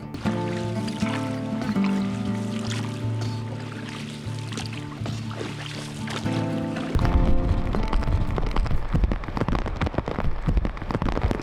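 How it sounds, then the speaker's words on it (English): Paddles dip and splash rhythmically as a boat moves up a tributary of the Stikine River in Alaska. The splashing is close and steady throughout, with a heavier, denser stretch of water noise in the second half. "we paddled and paddled and paddled"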